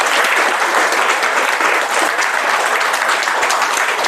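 A hall full of women at a spiritual class in Pune claps loudly and steadily, a dense unbroken wash of hands with no speech over it.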